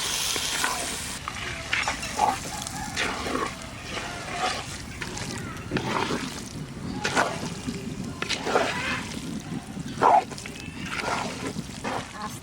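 Meat goes into a pan of spices ground on a stone slab and fries in oil in a village-style hill kitchen, with a continuous sizzle and repeated scraping stirs, some faint background sounds in between.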